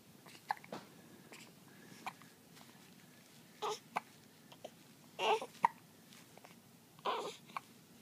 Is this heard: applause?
no